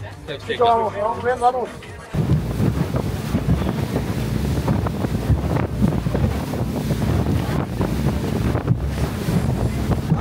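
A small boat crosses open sea while island hopping in Colombia, with heavy wind buffeting the microphone, hull slapping and engine rumble over rushing water; a person talks briefly at the start before the roar takes over.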